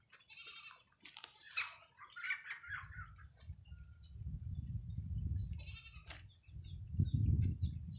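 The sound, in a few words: goat bleating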